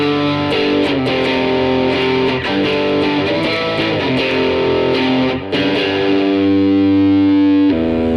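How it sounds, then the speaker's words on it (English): Electric guitar with distortion switched on, played through Guitar Rig 2 or Amplitude 2 software, gives a loud, sustained, saturated tone with chords ringing steadily and a brief dropout before the final held notes. "I can turn my chorus off and I can turn my distortion on."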